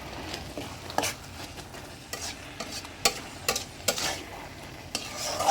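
Taro leaves (kochu shak) fry in a pan on a gas flame, with a steady close sizzle under repeated scraping stirs and sharp utensil knocks against the pan, no voices.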